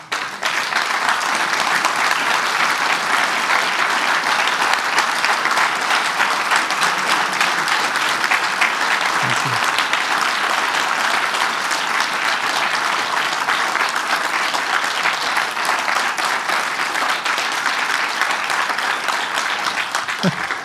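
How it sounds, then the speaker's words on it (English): An audience applauds at length after a lecture on hyperconnectivity. Dense, steady clapping fills the room at an even loudness for about twenty seconds, with no pauses and no voices. "Wow, aren't you ever going to stop clapping?"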